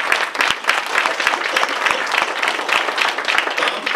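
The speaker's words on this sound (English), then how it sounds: "give a round of applause." Audience applause at a poetry event, dense steady clapping from a full room that holds evenly for the whole stretch with no voices over it.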